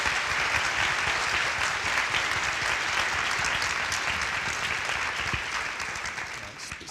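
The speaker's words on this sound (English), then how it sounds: "Let's give him a huge round of applause for his time." An audience at a community healing talk event applauds a guest speaker, with sustained, full clapping from a large crowd that fades slightly toward the end over about seven seconds.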